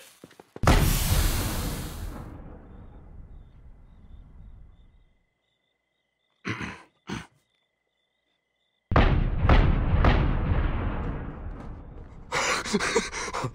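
Explosions in the video game Fireworks Mania: a heavy booming blast with a long rumbling decay, a couple of short pops, then a dense run of loud crackling bursts near the end.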